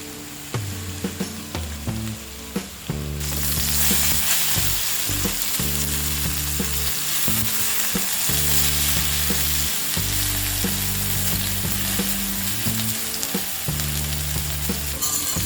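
Cut raw banana pieces fry on a high flame, a dense, steady sizzle running throughout at moderate loudness, with an abrupt louder surge of hissing after the first few seconds and no voices.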